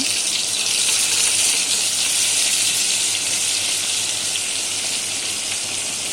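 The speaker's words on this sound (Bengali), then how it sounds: "প্রথমে আমি ডিমগুলো ভেজে নিচ্ছি" A steady, loud hiss of eggs frying in oil carries on without a break, with no voices.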